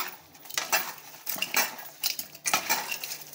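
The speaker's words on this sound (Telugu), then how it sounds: "ఇట్లా కడిగి బాగా ఈ విధంగా తిప్పుకోవాలండి" Raw prawns being washed and stirred in a bowl, giving a quick run of close, light clinks, scrapes and splashy knocks in an uneven rhythm, with no talk.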